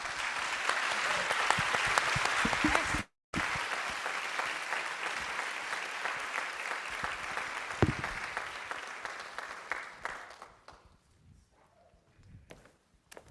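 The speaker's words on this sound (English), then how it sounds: "please give our panel a round of applause" A conference audience at a community summit applauds a panel with sustained, steady clapping. It breaks off for a split second, continues, then fades to scattered claps and near quiet at the end.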